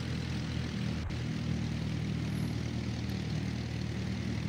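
Cirrus SR22 propeller aircraft engine in the X-Plane 11 flight simulator, on the ground near a runway, giving a steady, loud, continuous drone with a low rumbling hum throughout and no talking.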